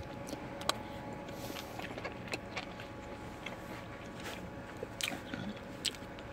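Chewing on tough, cooked beef ribs, a steady moist mastication with small crackling bites close to the mouth, carrying on without talk.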